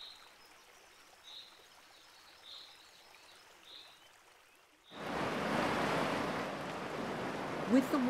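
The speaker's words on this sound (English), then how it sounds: "With the water lapping over his body, Piran wakes up." Quiet gentle water with faint chirps, then a sudden surge of louder rushing, washing water that continues steadily to the end.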